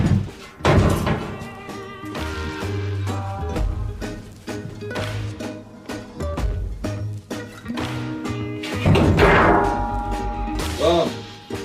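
An aluminum plate is set down on sawhorses, with a series of close, hollow metallic thunks, clanks and scrapes in uneven rhythm as it is shifted into place, while someone talks intermittently.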